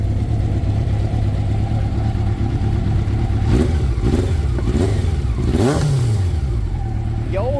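A 1987 Honda CBR 600F Hurricane motorcycle rumbles close by and revs its exhaust in several rising throttle blips over a steady engine drone, while people talk nearby.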